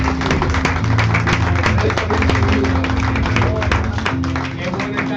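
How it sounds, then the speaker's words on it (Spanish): A church congregation applauds during a Spanish-language service, a loud sustained run of clapping with sharp individual claps over a steady tonal backing and a voice. "¿Alguien podría dar un aplauso al Señor?"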